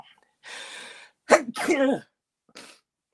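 A sharp sneeze with a quick intake of breath before it, followed by a shorter breathy exhale; isolated and close, with quiet gaps around it.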